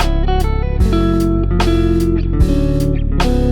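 A neo soul guitar riff rings out with clean, full chords and melodic fills in a smooth, syncopated phrase, loud and close with no voices.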